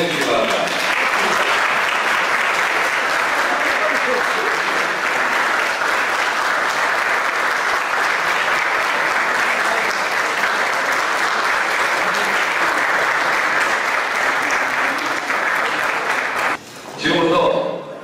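A large crowd at a Korean scout summer festival ceremony claps steadily and loudly for a long stretch, then the applause cuts off abruptly near the end.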